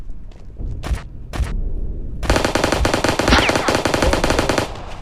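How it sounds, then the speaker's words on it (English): Gunfire in the shooter game War Inc Eastern Fall: two or three single loud shots, then a sustained rapid automatic burst lasting over two seconds, close and sharp, with no talking. "Whenever I hear a shot, I always run for cover."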